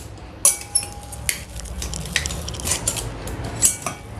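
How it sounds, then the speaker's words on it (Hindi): Boiled potatoes being mashed in a bowl for paneer hara bhara kababs, a run of sharp metal-on-bowl knocks and scrapes at an uneven rhythm, close and fairly loud, with no talking. "तो सबसे पहले आलू को मैश कर लेते हैं अच्छी तरह से।"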